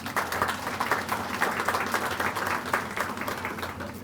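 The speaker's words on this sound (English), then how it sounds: "Anthony Rodriguez and Lisa Dye from Vocon, please give them a round of applause." A crowd at a library grand opening claps in steady applause, a dense, even patter of hands heard at moderate distance with no talk over it.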